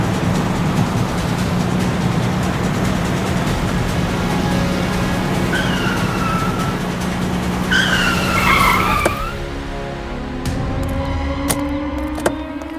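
A car overtakes in a loud, busy traffic or chase scene with a steady engine roar, tires skidding and squealing in rising sweeps from about 5 to 9 seconds, followed by an abrupt drop and a lighter, still-rolling background.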